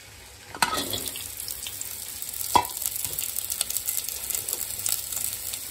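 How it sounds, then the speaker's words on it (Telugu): Onions frying in oil in a pan for butter chicken, a continuous sizzle that starts with a sharp hiss as they hit the pan, with clinks and scraping of stirring on top. "కొన్ని ఆయిల్ వేసుకున్నాం ఇందులో. ఇప్పుడు ఇందులో ఆనియన్స్ వేసుకున్నాం."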